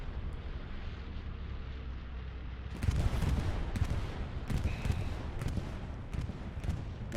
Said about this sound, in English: That's a allied bombing run